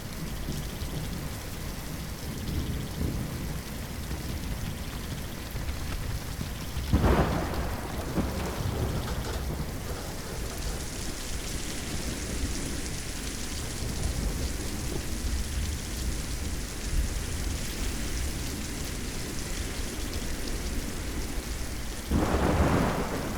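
Thunderstorm over the African savanna: steady heavy rain hisses throughout while two loud cracks of thunder break out, one early and one near the end, with rolling rumble between.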